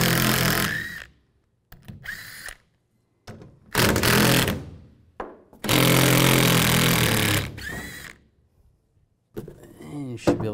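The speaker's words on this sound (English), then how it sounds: "Take these two bolts out, use a 13mm socket." Two tailgate bolts come out of a 2007-2013 Chevy Silverado 1500 under a 13mm socket on a power tool, heard as several loud close whirring bursts separated by pauses.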